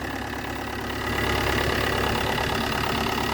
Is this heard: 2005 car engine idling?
yes